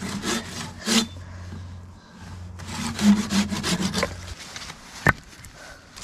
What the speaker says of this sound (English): You just hear the saw behaves differently when you're doing it well.